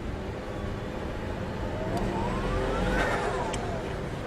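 A Toyota Mark II four-door sedan, a JDM car with an intake and OEM-style exhaust, revs up and back down once, its engine note rising and falling over a steady outdoor rumble with no talking.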